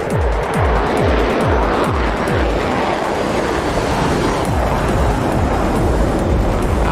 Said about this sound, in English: Listen to the roar of this jet